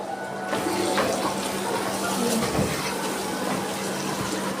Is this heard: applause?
no